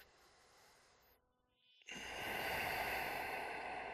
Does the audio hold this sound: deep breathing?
yes